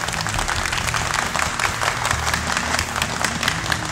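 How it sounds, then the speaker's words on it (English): A crowd at a warrior training event gives a round of applause, dense continuous clapping from many hands at moderate loudness, steady for the whole stretch with no talk over it. "we're going to do a round of applause for these warriors"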